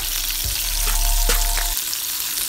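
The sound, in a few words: crayfish searing in a pan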